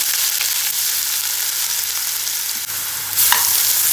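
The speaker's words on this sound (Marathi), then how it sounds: "कांदा आपल्याला चांगला परतून घ्यायचा आहे" Chopped onion frying with a loud, steady hiss of oil close by, a few soft stirring scrapes, and a brief jump in sizzle near the end.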